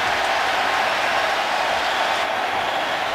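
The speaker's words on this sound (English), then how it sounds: "Crowd cheering because a fan has run onto the field" A large stadium crowd at a Falcons vs Rams NFL game cheering as a fan runs onto the field, a dense, loud, continuous roar of many voices.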